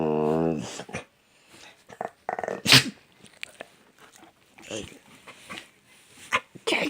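A dog makes odd whining, sneezing and snorting noises in bursts with pauses between them, close by, and a person's voice is also briefly present.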